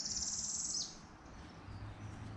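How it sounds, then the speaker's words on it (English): A songbird gives a quick, bright, high-pitched trill for under a second, fairly clear against a low background rumble that continues alone afterward. "If any of you know what that bird is"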